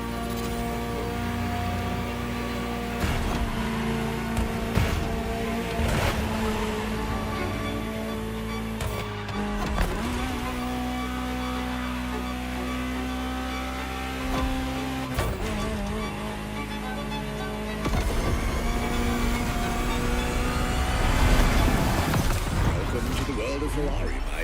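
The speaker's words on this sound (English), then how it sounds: "Just listen to the car you're driving." A Ferrari supercar engine in The Crew Motorfest drives steadily, a continuous droning tone that rises and falls through gear changes, while a voice talks over it for much of the time.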